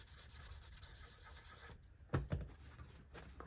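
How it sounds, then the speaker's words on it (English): Soft, close rubbing of a fine sanding block in light strokes with light pressure on a Stratocaster guitar body's clear coat, with a couple of brief thumps partway through. "Going back to our fine sanding block"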